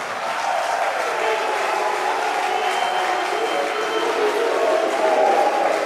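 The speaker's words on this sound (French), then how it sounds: "Il faut applaudir Madame la Première Dame." A large crowd at an Ivorian political rally applauds the First Lady, a steady, dense wash of clapping and cheering that holds at an even loudness throughout, with no one speaking over it.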